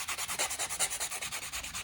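A white 100-grit nail buffing block rubs quickly back and forth in an even rhythm of about a dozen short strokes, close and soft, with no voices.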